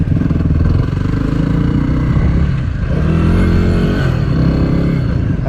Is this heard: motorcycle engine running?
yes